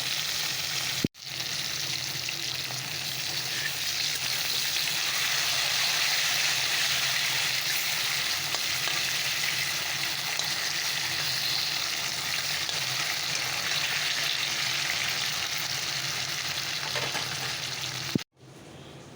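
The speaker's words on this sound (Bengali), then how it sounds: "আলু ভাজা পটল ভাজা হয়ে গেছে" Potato and pointed gourd slices fry in a pan, giving a steady, fairly loud hiss and crackle that runs unbroken for a long stretch, with brief cuts near the start and end.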